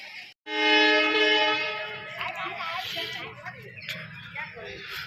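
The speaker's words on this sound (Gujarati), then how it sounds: "અમારી ટ્રેન ઉપડવાની તૈયારી છે, જોઈ શકો છો।" A loud, sustained train horn blares close by, then fades into station bustle with voices talking.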